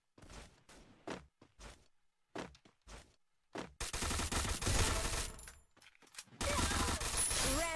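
Gunfire in the Free Fire video game: scattered single shots and short bursts, then sustained loud automatic fire in two long stretches, with brief gaps between.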